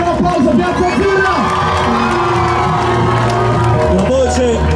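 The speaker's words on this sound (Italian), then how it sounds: "Vuoi sentire un applauso, piazza Pira?" At a 2019 foam party in Piazza Azzurra, a loud crowd cheers, shouts and whoops continuously, with children's high voices and scattered applause over thumping music.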